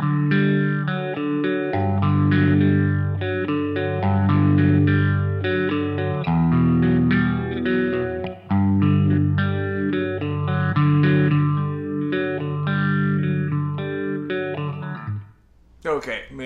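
Electric guitar played through the overdrive of a Line 6 Pod Go processor, a loud, continuous run of distorted, sustained chords with some chorus-like shimmer, ringing alone with no talking until a brief cutoff at the end.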